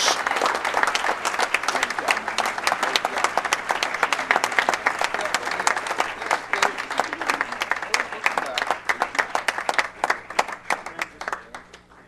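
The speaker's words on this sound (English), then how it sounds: "One more round of applause for our Special Olympians" An audience at a sports banquet claps for a Special Olympics basketball team, the state runner-up, in a dense, sustained round of applause that runs the whole stretch and tapers slightly at the end.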